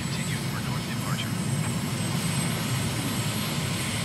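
Jet engine of an airliner throttling back at low altitude over the coast near Stavanger in Microsoft Flight Simulator, a loud steady roar that goes on throughout.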